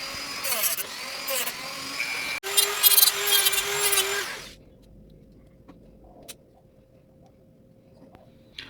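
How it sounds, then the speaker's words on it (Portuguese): A rotary micro-grinder scrapes imperfections off a toy figure, whining in short bursts and then a longer close grind that stops, leaving near silence. "Agora eu vou usar a micro-retífica para raspar todas as imperfeições e relevos do personagem"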